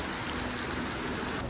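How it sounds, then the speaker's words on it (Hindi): Heavy rain falls in a dense, steady hiss on a rainy road during a motorcycle trip, a continuous wash of drops with no pauses across the short stretch. "कितनी खतरनाक बारिश हो रही है।"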